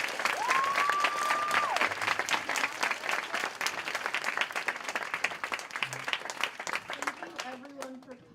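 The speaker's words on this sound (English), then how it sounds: "can we have another round of applause" An audience at a Moth storytelling event gives sustained applause, dense clapping from many hands with a whistle near the start, tapering off as a few voices come in at the end.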